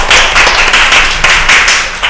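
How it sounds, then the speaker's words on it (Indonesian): Close, loud clapping from a small studio audience after a campus talk-show segment with a student futsal club, coming in quick, uneven bursts with no talking. "Tepuk tangan lagi dong."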